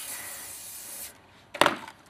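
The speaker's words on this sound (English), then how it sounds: "Get the good old air spray." Compressed air spray hisses steadily into an empty tube, a continuous close blast that cuts off, followed by a short sharp clatter.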